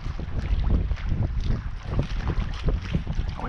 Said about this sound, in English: Like north wind, 15, 16 miles an hour. It's at our back though.